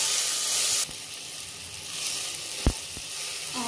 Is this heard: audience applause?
no